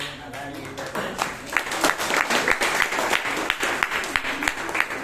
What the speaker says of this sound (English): Can we have another round of applause for the general evaluator